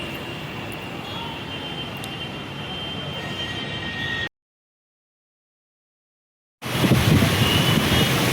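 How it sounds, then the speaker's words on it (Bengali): Strong storm wind in New Town buffeting the microphone as a loud, continuous roar, cut by a sudden silent gap of about two seconds before the rushing returns even stronger. "বিশাল জোরে ঝড় এসছে।"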